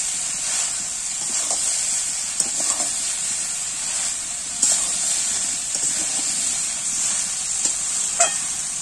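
Spice paste fries in a pan with a steady hiss and sizzle, and a spatula scrapes and stirs it every now and then.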